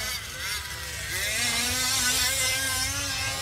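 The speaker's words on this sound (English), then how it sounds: "Your leader, though, the sour-sounding engine over the back section." Rough, sour-sounding engine of a fifth-scale 4WD RC sportsman truck racing on a track, its wavering whine rising and falling in pitch as it accelerates, fairly close amid outdoor wind noise.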